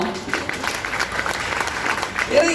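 Steady audience applause fills a public gathering where a speaker addresses a crowd in Tamil, a dense wash of many hands clapping at moderate volume for the whole stretch.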